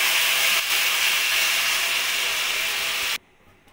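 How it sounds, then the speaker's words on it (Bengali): Pineapple pieces sizzle loudly in hot oil in a wok over a gas flame, a steady broadband hiss that runs unbroken for about three seconds before cutting off abruptly. "তেলটা গরম হয়ে গেছে, এবার আমি গ্যাসের ফ্লেমটাকে আস্তে দিয়ে আমি আনারসটা দিয়ে দেবো কড়াইতে"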